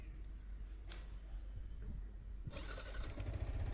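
A 2025 Yamaha MT15 DLX motorcycle engine idles in a low, rough, uneven rumble, with a few sharper ticks and a slightly louder, busier patch toward the end.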